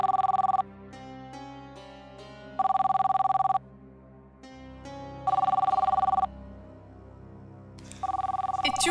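A telephone bell rings in repeated loud bursts of about a second each, separated by short gaps, with a faint voice murmuring underneath between rings, in an indoor domestic setting.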